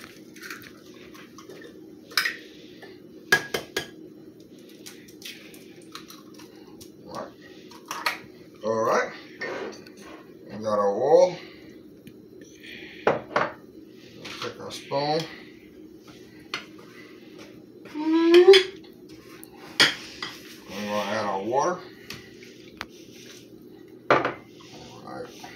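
Eggs being mixed into brownie batter in a bowl: a run of clinking and scraping utensil strokes against the bowl, coming in short irregular bursts with quiet gaps, close by, with occasional brief talk.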